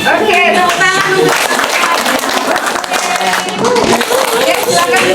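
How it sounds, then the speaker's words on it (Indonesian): Loud clapping from a room full of seated participants at an Indonesian health polytechnic teaching session, mixed with voices and busy shuffling, rough and uneven rather than a smooth ovation. "Oke, tepuk tangan untuk"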